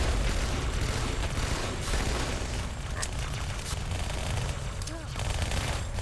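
Plasma Rifle fire in the video game Halo 2: a fast stream of energy bolts and pops under a constant loud wash of battle noise, with occasional bigger bursts and faint voices.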